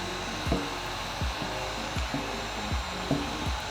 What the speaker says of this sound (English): Hold the heat gun on the back of the heat gun like I was